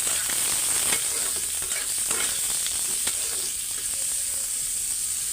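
Onions frying in oil in a pan for a small-fish curry give a steady, close sizzle with a few faint clicks of stirring running throughout.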